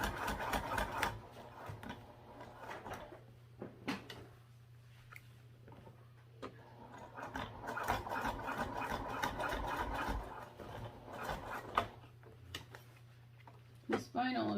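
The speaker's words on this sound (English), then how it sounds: "I'm going to top stitch at 1/8 inch." A sewing machine top stitches shiny vinyl at a longer stitch length, its motor humming with a rapid mechanical needle clatter in several runs of a few seconds each, broken by pauses with fabric handling and small clicks.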